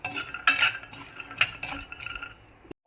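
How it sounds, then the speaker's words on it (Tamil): Seeds and nuts dry-roasting together in a pan, stirred with a metal spoon that clinks and scrapes against the pan in a few sharp bursts over a quieter rattling background; the sound cuts off briefly near the end. "போட்டு மூணையும் ஒன்றா வறுத்துக்கலாம்"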